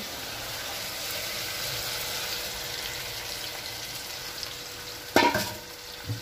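Spice paste mixed with water going into a hot wok, a quiet steady frying hiss that bursts into a short sharp sizzle near the end and then settles.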